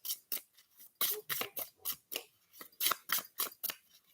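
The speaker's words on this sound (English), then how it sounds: "You're shuffling so much." Tarot cards being shuffled at close range, a rapid series of crisp riffling, snapping bursts in an uneven rhythm with short pauses between them, no voices.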